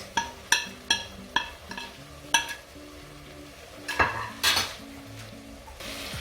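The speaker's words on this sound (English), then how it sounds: "And then I come back and stir it." Vegan curry sauce stirred in a pot, a metal spoon clinking and scraping against the sides in irregular knocks, close and fairly quiet, with a faint simmer underneath.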